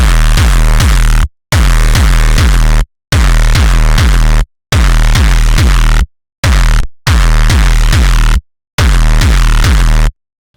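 Loud, heavily compressed sine-style synth bass made in Serum, in sustained growling notes separated by short silences, thick and aggressive with a buzzing edge.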